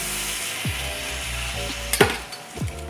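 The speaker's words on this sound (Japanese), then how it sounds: "しばらくするとプチプチってこう少し弾ける音がするので" Amaranth seeds dry-roasting in a pan give a few sharp little pops and crackles over a soft hiss, near and fairly quiet.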